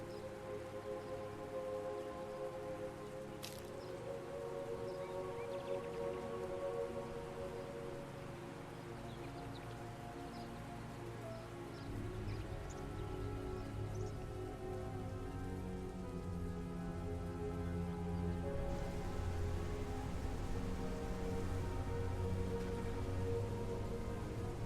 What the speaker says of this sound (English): So the raindrops are working in here.